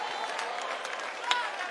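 A church congregation claps along in praise during a worship service, a dense, steady wash of many hands clapping with crowd voices mixed in.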